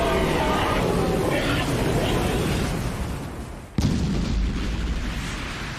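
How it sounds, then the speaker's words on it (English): A water cannon spell in an animated fantasy game scene lets out a loud, sustained rushing blast that dips briefly, then hits again with a sharp impact and keeps roaring. "Time to give it a try. Water cannon!"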